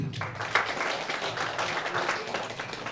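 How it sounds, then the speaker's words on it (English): Audience applause for a speaker at an environment symposium in Uganda: a steady, fairly soft wash of many hands clapping, sustained evenly for the whole stretch with no voices over it. "Round of applause for Mr. Godfrey, please"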